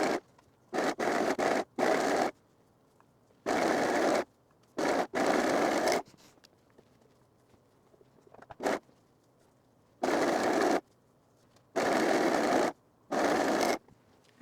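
A serger stitches the leg seams of fleece jogger sweatpants in short whirring runs of a second or so, separated by quiet pauses and faint handling of fabric.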